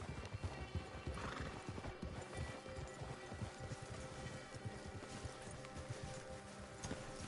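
Horses in the Red Dead Redemption II video game clop over the ground in a dense, irregular rhythm of hoofbeats, with a brief whinny early on, close and fairly loud.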